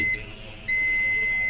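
A multimeter gives a continuity beep while testing a phone circuit board, a steady high electronic tone that cuts briefly and then resumes, close and clear with no talking.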